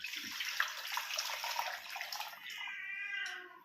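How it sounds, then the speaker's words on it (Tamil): Water is poured into a pot of salted corn cobs before boiling, a close steady gushing stream whose tone rises toward the end as the vessel fills. "இப்போ தண்ணி ஊற்றுவோம்"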